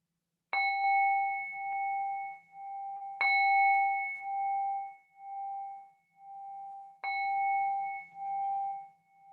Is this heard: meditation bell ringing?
yes